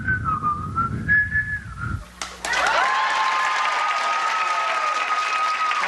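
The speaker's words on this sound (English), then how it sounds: "Anybody here whistle Battle Hymn of the Republic?" A man in a television game show studio audience whistles a tune, a clear sustained melodic whistle, then loud applause and cheering from the crowd swell up and carry on to the end.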